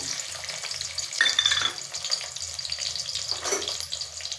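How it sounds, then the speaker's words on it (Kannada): Chopped onion frying in hot oil for an Angel fish curry, a soft crackling sizzle with small bursts and stirring scrapes, heard close but fairly quiet. "ಎಣ್ಣೆ ಬಿಸಿಯಾಗಿದೆ ನಾನು ಈರುಳ್ಳಿ ಹಾಕ್ತಾಯಿದ್ದೀನಿ"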